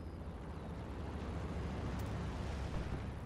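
Anti-tank gun rounds and rockets fire in the World War II shooter Hell Let Loose as a dense, low, rolling rumble of blasts, with one sharper crack partway through. The fire sounds distant and sustained, with no talking.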